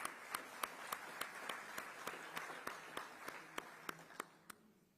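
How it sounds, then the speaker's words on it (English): Sparse, fairly regular handclaps from an audience at the ICT Summit 2023, each clap distinct and sharp over a quiet room before the clapping trails off. "A round of applause."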